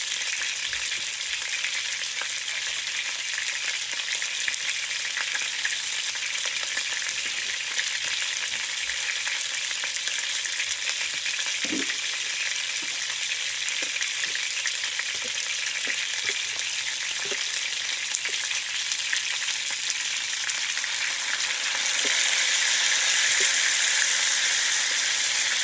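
Sofrito sizzles steadily in a pan with browned chicken for Puerto Rican arroz con pollo, a constant close frying hiss with a few faint stirring clicks, growing slightly louder near the end.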